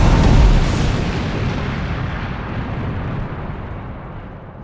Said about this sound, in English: The drone was rigged to explode.